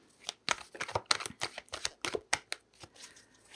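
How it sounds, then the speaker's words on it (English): Rapid riffling of a deck of tarot cards being shuffled, a quick run of crisp flutters and snaps, close by with no talking. "Just give it a good old shuffle for you."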